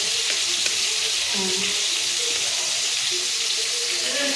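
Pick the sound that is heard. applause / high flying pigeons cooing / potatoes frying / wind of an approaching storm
potatoes frying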